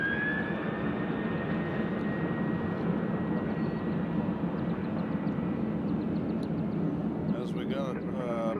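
American Airlines Flight 3003 departs Nashville airport bound for Charlotte, a steady jet roar with a high thin engine whine running across it, heard outdoors while someone talks over the noise.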